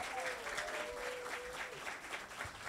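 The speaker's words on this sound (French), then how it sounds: "Je vous demande de l'applaudir chaleureusement." A crowd applauds warmly as a singer is welcomed onto a neighbourhood podium stage. The clapping is faint and distant, a continuous patter lasting nearly three seconds, with a thin tonal hum and murmurs beneath it.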